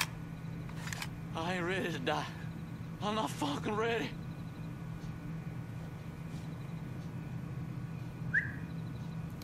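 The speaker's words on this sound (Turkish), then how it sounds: "İlle çağıracaksın yani, ha, ıslık çalacaksın." Two warbling whistle bursts ring out in the Mafia 3 video game, each lasting about a second, set a little apart over a steady low background hum, with a faint brief chirp near the end.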